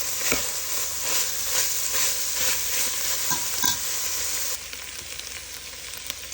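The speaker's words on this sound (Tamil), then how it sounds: "கொஞ்சம் கடுகும் கொஞ்சம் பெருஞ்சீரகமும் போட்டுவிடுங்க. நல்லா வதங்கட்டும். நல்லா கிளறி விடுங்க." Mustard and fennel seeds sautéing in a hot pan while being stirred, a steady close sizzle with repeated scraping strokes of a spoon, easing slightly in the final seconds.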